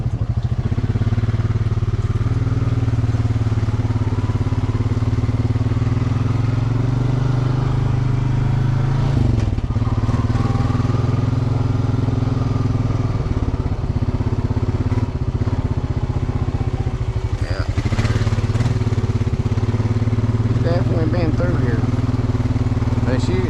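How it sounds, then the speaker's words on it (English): A four-wheeler ATV engine drones steadily on the Hatfield-McCoy trails, a close, constant low rumble with occasional rattles throughout, with some talking over it. "She'll hear this four-wheeler"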